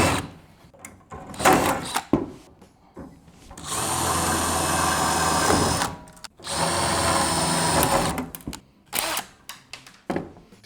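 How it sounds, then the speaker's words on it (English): A power drill bores out rivets on a 1448 jon boat, two sustained whirring runs of a few seconds each, with shorter clanks and handling noises before and after. "Now I'm going to go ahead and drill out those rivets"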